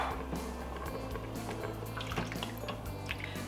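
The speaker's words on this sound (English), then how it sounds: "we're going to add about 3 cups of mushroom broth" Mushroom broth poured into a pot of vegan Irish stew, a soft continuous liquid trickle with faint splashes over low background hum.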